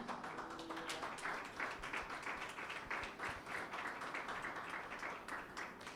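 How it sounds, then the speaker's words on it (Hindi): Church congregation clapping for Jesus at a Pentecost Sunday service, a steady, fairly distant wash of many hands applauding evenly throughout. "यीशु के लिए फिर से तालियां बजाएं।"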